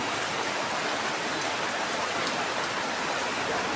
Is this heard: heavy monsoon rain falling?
yes